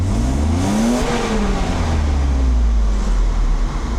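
A Mercedes-Benz R129 300SL, just repaired for a faulty fuel distributor, revs at idle with its engine rising and falling in pitch, loud and close with a rushing broadband roar.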